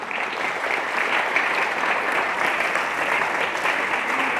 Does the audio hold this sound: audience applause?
yes